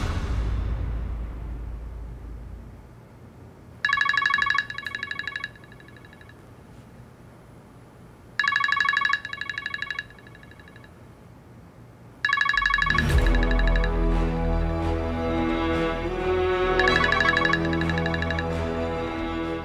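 A phone rings in two short electronic bursts separated by silence, then a third ring blends into swelling music that continues to the end.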